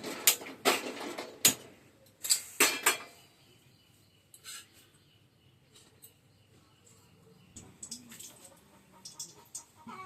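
A kadai (wok) is set down on a gas stove and the burner is lit while making fish curry. Several sharp metallic clanks come close together near the start, then softer clicks and a low hiss follow.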